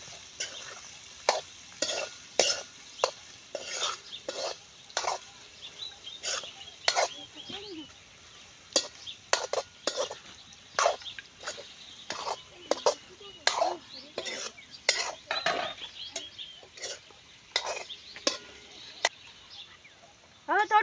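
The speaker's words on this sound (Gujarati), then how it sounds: "હવે હલાવશું" Potatoes with spices being stirred in a pan, with rapid, irregular scraping and clinking strokes of a spoon against the metal over a faint sizzle, close up, with a quiet voice at times.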